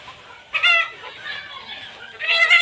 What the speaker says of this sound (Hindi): इधर मेरी मुर्गी चल रही है देखो।